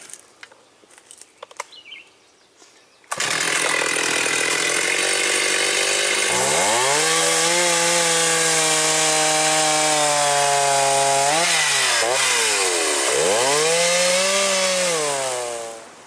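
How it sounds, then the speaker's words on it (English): After a few quiet knocks, a chainsaw roars to life and cuts through firewood logs, its engine pitch dipping and rising under load before easing off. "cut all those logs to the right size"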